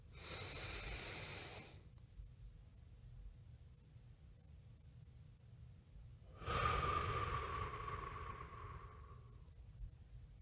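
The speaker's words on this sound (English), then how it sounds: "Maybe it's just a deep breath on 3." A group of people draws in a deep breath together on a count of three, a broad airy inhale swelling for a few seconds after an earlier shorter breath, over a quiet room hum.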